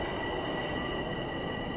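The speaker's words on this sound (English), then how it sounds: "Ooh, that train's busy." A busy train rolls past at a Toronto station on a December city walk, a steady loud rumble of railcars with faint wheel squeal, continuous and close for the whole stretch.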